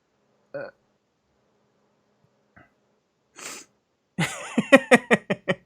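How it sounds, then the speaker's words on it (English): After a few faint breaths, a sharp sneeze bursts out up close, followed by a quick run of short, choppy exhalations. "I don't want to, but I'm going to sneeze."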